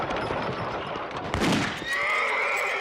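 Cartoon gunfire aimed at a horse-drawn carriage: a sharp burst of shots cuts through the commotion of the carriage and a horse's whinny, followed by a sustained high tone.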